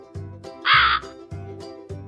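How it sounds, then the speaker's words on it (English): Crow cawing in four loud, harsh calls at an even pace, close and clear with no other sounds, in a listening game on recognising bird and animal sounds. "Yes, that's a crow."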